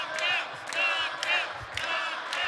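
A wrestling arena crowd at a women's Knockouts match roars and cheers in repeated loud swells, with whoops rising over the steady din.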